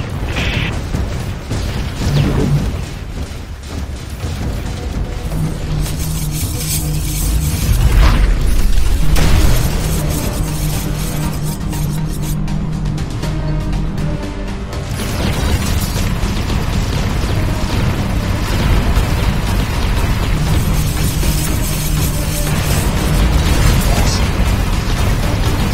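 Gunships attacking an alien in the game X-Morph Defense, a loud, dense barrage of booming explosions, bursts and mechanical clatter that roll on continuously with heavier blasts mixed in.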